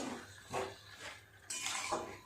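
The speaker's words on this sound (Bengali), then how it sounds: "এইভাবে বেশ কিছুক্ষণ ধরে এখন নেড়ে চেড়ে কষিয়ে নেব" Fish-head and cabbage curry being stirred in a pan, with a utensil scraping and clinking against the metal in several strokes over a soft frying hiss, close and fairly quiet.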